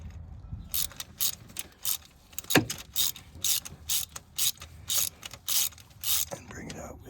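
A socket wrench ratchets on a spark plug in a Toyota Tacoma V6 engine, giving repeated close bursts of crisp clicking strokes with short pauses between them and one sharp metallic clank partway through.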